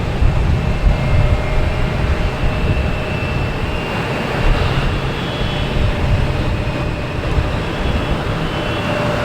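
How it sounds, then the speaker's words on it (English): A Hawker Beechcraft aircraft at Boston Logan Airport gives a steady, broad jet roar with a thin, high whine layered on top. It sounds moderately loud and distant, with no talking. "Hawker Beechcraft, that's what it is."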